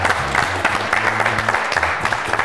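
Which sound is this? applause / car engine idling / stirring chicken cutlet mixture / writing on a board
applause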